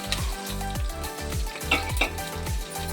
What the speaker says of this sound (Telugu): నూనె కొంచెం హీట్ అయ్యాక అందులో పోపు దినుసులని యాడ్ చేసుకోండి.